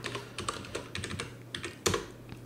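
Code being typed on a computer keyboard: close, irregular keystroke clicks in quick bursts with short pauses and one sharper, heavier press near the end, with no voices.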